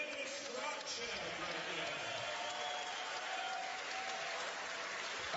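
Crowd applause at a boxing event in Bethlehem after Isaac Chilemba beats Denis Grachev by decision, a steady distant wash of clapping and cheering, fairly faint, with a voice talking over it.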